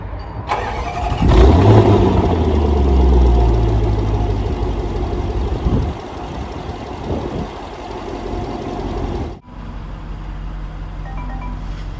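A 2021 Range Rover Sport SVR with a 5.0 supercharged P575 V8 cranks and fires up with a loud rev flare, then settles into a steady rumbling idle before cutting off near the end.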